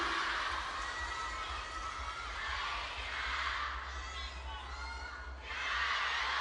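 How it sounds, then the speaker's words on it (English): Spectators at the WTT Finals women's table tennis semifinal in Hong Kong cheer and shout in a sustained, swelling roar, with excited high voices rising near the end. "Listen to the crowd."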